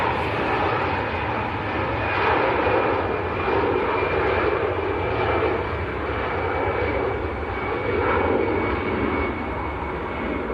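An EasyJet airliner bound for Paris runs its jet engines at Manchester Airport, a loud, steady, close roar with a whining tone that holds throughout.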